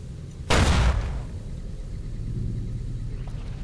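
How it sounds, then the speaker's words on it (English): A single loud explosion goes off in the Fallout New Vegas video game, a sudden broadband boom that decays into a long rumbling tail over low background noise. "That is an awful lot of explosions."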